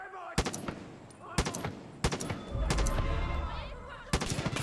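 Gunfire in the Far Cry 5 video game: several sharp shots spaced across a few seconds, with steady game ambience between them.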